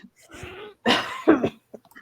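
A voice imitates a wet, hacking cough in a few rough bursts, close and fairly loud, followed by faint breathy sounds.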